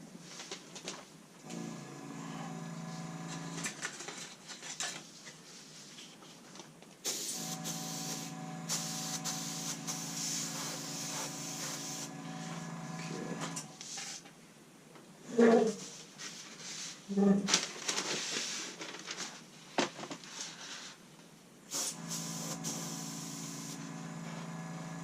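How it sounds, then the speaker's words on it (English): An airbrush compressor runs while a Bf109E model kit is painted: a continuous buzzing hum with hissing spray bursts and a few brief clicks, recorded close. "Oh, I gotta turn the compressor back on."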